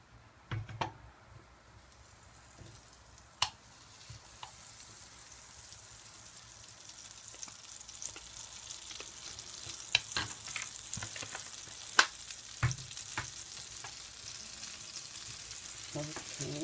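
Butter melting in a pan as garlic scampi is started, a soft sizzle that builds into a steady frying hiss with scattered pops and a few utensil clinks, close and fairly quiet with no talking.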